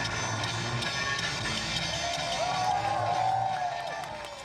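A packed crowd at a film screening event fills a room with a steady roar of chatter and excited voices, with faint cheering and whoops mixed into the continuous hubbub.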